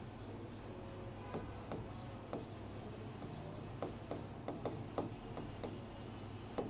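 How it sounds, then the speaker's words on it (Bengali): Chalk or a marker scratches out writing on a board in a physics class, with faint, irregular taps and strokes that grow busier toward the end. A quiet room hum sits underneath. "তাহলে আমরা একটু লিখি"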